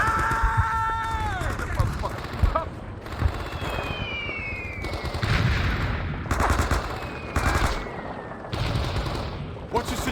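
Sustained covering gunfire in a Vietnam War first-person shooter game, with dense machine-gun bursts and rifle shots rattling continuously, whistling incoming rounds overhead, and soldiers shouting over the racket.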